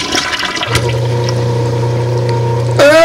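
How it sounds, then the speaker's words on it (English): A household toilet flushes loudly close up, a rushing swirl of water that settles into a steady hum before a burst of gurgling refill at the end, while the bowl is clogged by a sex toy. "Maybe let's give it another flush."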